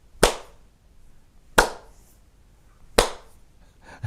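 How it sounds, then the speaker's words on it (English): Three sharp single hand claps, evenly spaced about a second and a half apart, close and loud against near silence with no talking. "We are discussing and you are clapping 3 times in the hand."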